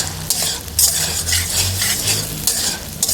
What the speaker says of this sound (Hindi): टमाटर को डालकर इनके मेल्ट होने तक हम इनको अच्छी तरह पकाएंगे